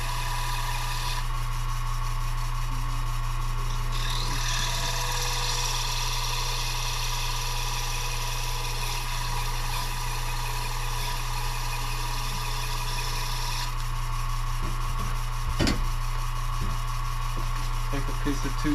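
A 10 by 18 wood lathe spinning slowly while a turned bowl is sanded, giving a steady motor hum and whine with faint scraping over it.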